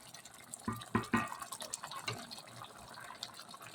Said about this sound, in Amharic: ውሃ ክልስ አድርገን